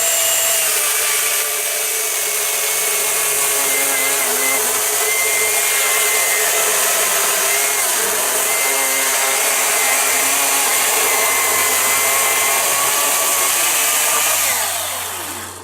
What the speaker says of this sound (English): this is the Ego 56 volt chainsaw